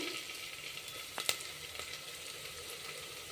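Onion and ginger paste sizzles quietly in a frying pan, a soft even hiss with a couple of brief stirring clicks in the middle.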